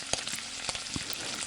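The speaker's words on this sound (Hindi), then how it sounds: "उसके बाद हमने एक अदद प्याज लेना है और उसको हमने फ्राई करना है" An onion frying in a pan for a creamy chicken ginger dish gives off a soft, steady sizzle with a few brief crackles and light clicks. No one speaks.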